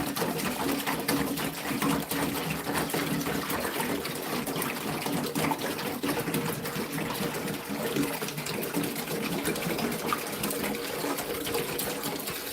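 Water being emptied out of Gardyn hydroponic tanks in a kitchen, roughly five gallons, makes a steady, continuous rushing and gurgling flow that holds at an even level throughout, with no talking.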